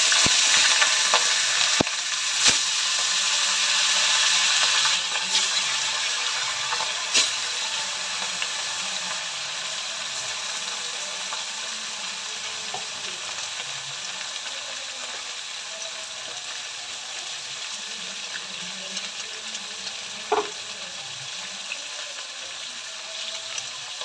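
Fish sizzling steadily in hot oil in a pan, a dense broadband crackle close by, with a few clinks and taps of a utensil against the pan early on and a sharper pop later.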